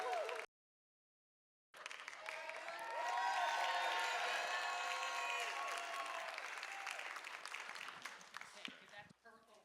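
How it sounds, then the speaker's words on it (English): An audience at an Ignite High Desert speaker event applauds, with sustained, dense clapping that swells and then tapers. A short gap of silence breaks it near the start, and some cheering and voices mix in. "So let's give them a round of applause."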